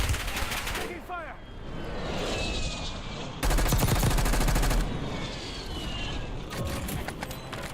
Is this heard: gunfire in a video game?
yes